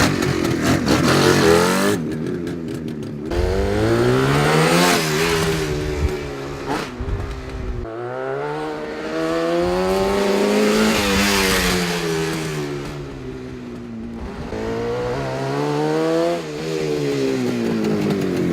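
A 1971 Suzuki T500R Titan two-stroke motorcycle, an AHRMA racer, runs loud and close, its engine revving up and down repeatedly with rising and falling pitch sweeps and brief drops between blips, no talking.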